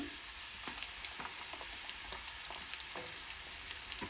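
Chopped onion with cumin and chili frying in hot oil, a soft, steady crackle with scattered small pops and light stirring taps, fairly quiet and without speech.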